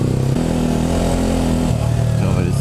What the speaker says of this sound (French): C'est pas le même que le 2 temps, hein. On est sur du 4 temps